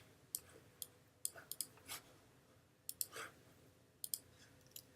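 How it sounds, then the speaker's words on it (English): Typing on a computer keyboard: scattered bursts of sharp key clicks with short pauses between words, close and fairly quiet, with no talking. "I'm gonna go ahead and just type in viral first"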